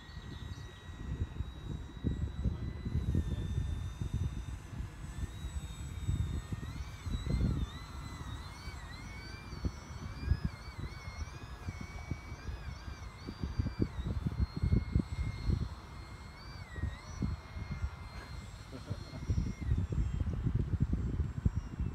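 RC airplane on its maiden flight, a thin whining motor tone rising and falling in pitch as it hovers and maneuvers, mid-distance, over strong continuous wind rumble.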